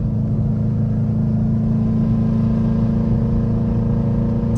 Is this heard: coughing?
no